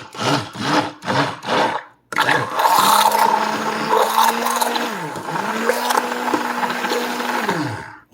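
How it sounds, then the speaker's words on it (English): A stick blender whirs through an egg mixture for a cottage cheese egg scramble, close and loud. It runs as a steady motor drone that briefly dips and then resumes, after a few rhythmic bursts at the start. "I'm going to use a stick blender."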